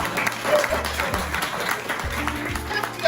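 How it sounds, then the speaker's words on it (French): An audience at a business presentation applauds in a short, uneven burst of clapping mixed with some murmured voices and a few louder thumps, fairly close. "applaudissez."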